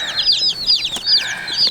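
Baby chicks from a hatchery peep continuously in a busy, overlapping chorus of high, rising and falling chirps, close by and fairly loud with no talking.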